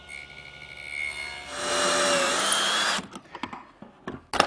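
A table saw blade, tilted slightly and guided by a miter gauge, nibbles a notch into a wooden chair arm: a loud sustained whine for about a second and a half, then scattered short clatters and knocks as the wood is shifted.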